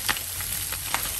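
Quinoa fried rice sizzles steadily in a hot pan while being tossed, a bright hissing fry with a couple of quick scraping stir strokes standing out briefly, close and fairly loud.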